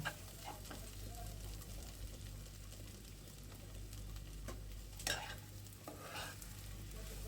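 Goat brain bhuna frying in a pan with spices, a soft continuous sizzle under occasional scrapes of a spoon stirring, with one louder scrape near the end; quiet and close.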